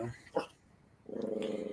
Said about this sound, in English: Whose dog's mad?